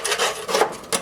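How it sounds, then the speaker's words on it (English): A scraper rasps built-up grass off the deck of a John Deere x300 mower in a few quick, close, scratchy strokes with no voice. "What we're going to do is we're just going to scrape it off."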